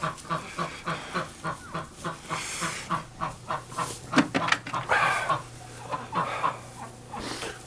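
A flock of farm ducks quacks and clucks close by in a steady rhythmic stream of short calls, with other fowl sounds mixed in and no clear speech.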